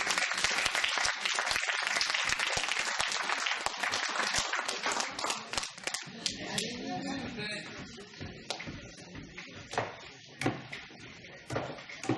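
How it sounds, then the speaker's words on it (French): An audience at a stage show applauds a performer named Nicole, a crackling burst of clapping that softens midway as voices and shuffling noises come through. "Je vous demande d'applaudir Nicole."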